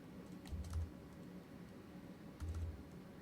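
Computer keyboard keys are tapped as JKL navigation shortcuts while editing footage in EDIUS Pro 7.4, giving a few faint, soft clicks in two small clusters against quiet room tone.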